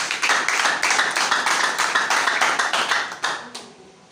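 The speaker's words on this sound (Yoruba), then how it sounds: "Clap Jesus." A congregation at a Yoruba church service claps for Jesus in a brisk, steady rhythm of many hands together, loud and close, then tapers off near the end.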